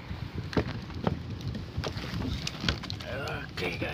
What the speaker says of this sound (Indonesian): ini perahu Robinnya guys